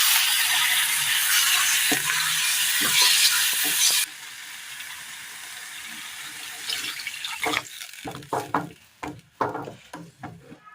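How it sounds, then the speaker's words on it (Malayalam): Ground masala paste goes into a simmering Kerala curry with a loud sizzle, which drops sharply after a few seconds and gives way to wet, irregular stirring scrapes and clacks against the pot. "ഇനി നമ്മൾ അരച്ചു കൊണ്ടുവന്ന അരപ്പ് കൂടി ഇതിനകത്തേക്ക് ചേർത്ത് കൊടുക്കാം"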